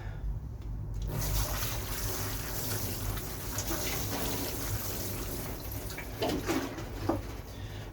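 Sweet pea seedlings at an allotment plot get watered, a soft, steady hiss and patter of water that starts after a second of quiet and runs on evenly, with faint knocks near the end.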